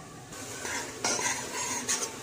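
Tomatoes frying in oil for a tadka while a spoon scrapes and stirs them in the pan, with a soft sizzle and a few sharper scraping strokes.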